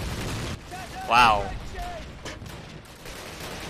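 Flak gun firing in Call of Duty 1, a single loud burst around the middle of the clip over steady game background noise, with a player's voice exclaiming briefly.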